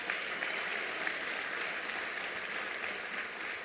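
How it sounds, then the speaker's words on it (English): Audience applause after the announcement of the national school exam results at a government event, steady dense clapping from a large crowd held at an even level throughout, with no voices over it. "Let's give government a big hand of applause."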